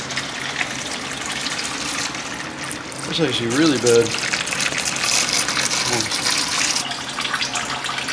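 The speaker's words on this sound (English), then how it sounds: "I'm going to drain the oil." Engine oil, thin and watery and contaminated with fuel, gushes out of the drain of a failed 440 engine in a 1968 Dodge Charger R/T, a steady splashing pour with someone talking briefly over it.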